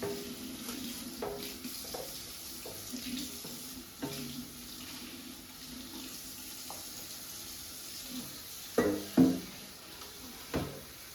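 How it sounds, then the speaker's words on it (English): Tap water runs steadily into a sink while a Cosori air fryer part is washed by hand with dish soap, a constant hiss broken near the end by a few louder splashes and knocks, with no talking. "I'm going to wash this part as well. So just water and dish soap."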